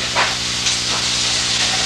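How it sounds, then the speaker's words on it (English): Rice with tomato and onion is stirred in a pan with margarine. It gives a steady, close, broadband sizzle and hiss, with brief scraping swells as the spoon moves. "now we want to stir this rice in with the tomato and the onion"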